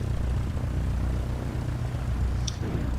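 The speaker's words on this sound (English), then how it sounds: "I can hear an engine." Steady, droning aircraft engine from a plane in Microsoft Flight Simulator, a continuous low hum that holds at a constant level throughout with no talk over it.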